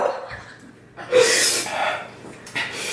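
Heavy, gasping breaths from someone overheated after eating spicy ramen, a few sharp intakes and hard exhales close to the microphone.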